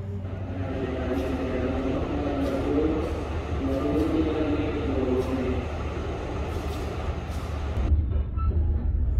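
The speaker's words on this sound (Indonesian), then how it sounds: "kereta api Kahuripan diberangkatkan dari stasiun Kiara Condong untuk memulai perjalanan" The Kahuripan economy-class passenger train departs Kiaracondong station, rumbling steadily with a low, continuous drone and faint clanking, while a voice speaks over the noise throughout.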